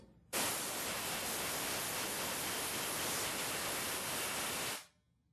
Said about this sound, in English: the cleaning cycle is finished, so we dry it off with the Clean Machine's air hose